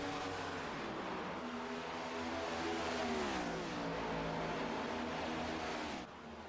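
A stock-car racing sim engine held in fifth gear, droning steadily with its pitch slowly rising and falling through a lap, loud and close, before it drops off near the end.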